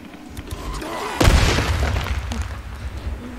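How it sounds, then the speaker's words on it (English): A bomb blows up in the video game Days Gone: one sudden loud boom with a crackling, debris-like tail that fades over a couple of seconds, standing out against steady game ambience. "Oh, it's a bomb."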